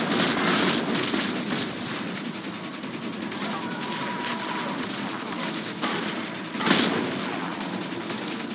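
Dense, sustained gunfire from the Mass Effect Legendary Edition game, heavy overlapping shots in a loud continuous barrage with a sharper burst near the end.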